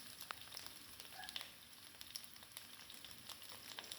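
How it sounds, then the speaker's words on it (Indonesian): Scallions, lemongrass, ginger, galangal and lime leaves sauté quietly in a pan, a soft continuous sizzle with faint crackles and occasional light scrapes, no voices. "Ditumis hingga harum sampai daun bawangnya itu terlihat agak sedikit kering ya teman-teman"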